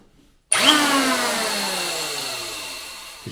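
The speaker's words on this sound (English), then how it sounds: "Okay, so I'm just going to use a planer" Electric planer set to maximum depth shaving down a wooden wall stud during a bathroom install, snapping on loudly after a brief silence into a whining motor roar that slowly winds down, close by.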